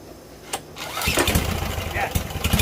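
A Briggs opposed-twin engine starts after long sitting, with a brief cranking burst, then catches into a loud, close, rough sputtering run with uneven pops as throttle is fed, under a person talking.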